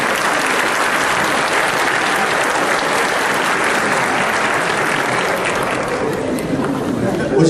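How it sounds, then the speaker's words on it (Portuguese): Dense, sustained applause from a large audience fills the whole stretch, loud and steady with a broad clapping texture and a few murmuring voices mixed in. "Vamos dar uma salva de palmas para essa turma do Brasil?"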